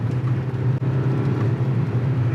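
A Mazda CX-90 plug-in hybrid SUV driving in snow gives a steady, even engine drone from inside the cabin, continuous and unbroken, with no talk.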